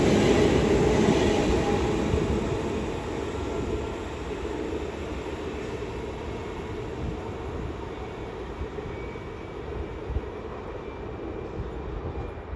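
A Class 350 electric train, unit 350-257, runs through Milton Keynes Central on the West Coast Main Line, a loud rumbling roar that eases slightly after the first seconds and then rolls on steadily with no voices.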